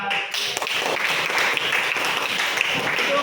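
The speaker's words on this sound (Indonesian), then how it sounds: "Tepuk tangan untuk Surya kelompok 4." Audience applause for a group presentation in a school classroom, a steady wash of many hands clapping that holds evenly for about three seconds with no break, loud and close throughout.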